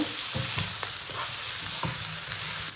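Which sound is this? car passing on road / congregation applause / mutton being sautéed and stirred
mutton being sautéed and stirred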